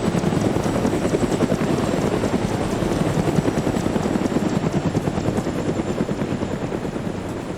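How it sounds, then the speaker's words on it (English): Mi-24 and Mi-8 military helicopters fly over a desert combat zone in a sandstorm, with rapid, steady rotor thumping and engine whine, loud and sustained, easing slightly toward the end. "An Mi-24 and an Mi-8 helicopter arrived in the combat zone."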